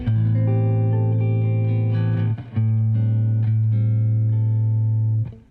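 A jazz guitar runs through the natural minor scale, clean plucked notes moving over a sustained low root tone, with a brief gap midway before the notes resume and ring out, without talk.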